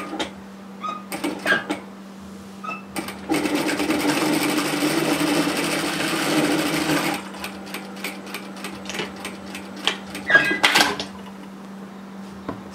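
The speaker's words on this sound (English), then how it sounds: "I'm just going to stitch it in from the edge." A sewing machine edge-stitches a cardigan pocket in one steady run of fast rhythmic stitching lasting several seconds. Scattered handling clicks come before and after the run, and a low hum sits underneath.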